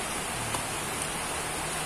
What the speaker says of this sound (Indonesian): Pas banget dapat makanan terus hujan.